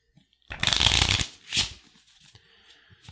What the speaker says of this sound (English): We'll shuffle up this deck